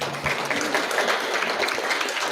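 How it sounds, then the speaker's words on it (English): Audience applause at a Lakota media summit, steady and dense clapping filling the room at moderate loudness without a break. "How about another round of applause"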